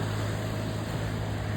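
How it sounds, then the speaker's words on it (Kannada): A fishing boat engine drones steadily as the boat leaves the shore at Gangolli, a continuous low rumble mixed with broad wash noise and no pauses. "ನೋಡಿ, ದೋಣಿ ಹೊರಟಿತ್ತು."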